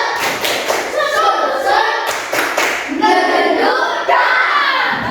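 A fifth-grade class in an Indonesian classroom performs a rhythmic clapping chant, with bursts of sharp claps falling in a patterned beat between chanted words from children and a teacher's voice.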